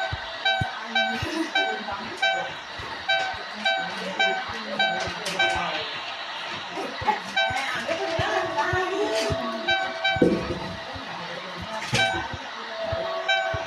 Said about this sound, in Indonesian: Boleh membunyikan klakson.